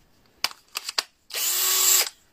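A cordless 12V drill running on a rebuilt battery pack with Sony VTC5 cells whirs loudly and steadily for about a second, after a few short clicks and trigger blips, then stops.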